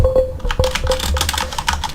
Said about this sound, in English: my keyboard's mechanical. Every video I have has this in the background of it.